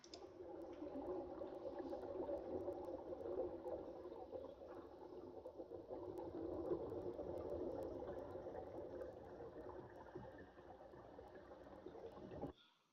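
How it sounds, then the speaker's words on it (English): A constant stream of water flowing through a section of an augmented reality heritage experience, heard as a steady broadband wash that holds evenly for about twelve seconds with no talk over it. "users can hear a constant stream of water flowing through that particular portion of the augmented reality experience"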